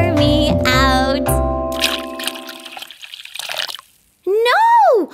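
Cartoon sound effect of tea pouring from a tipped-over teapot: bubbly, gurgling liquid glugs with rising and falling tones, fairly loud, ending in a swooping whistle-like slide, in a children's song setting.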